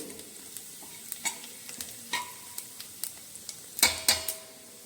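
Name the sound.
cumin and carom seeds roasting in hot oil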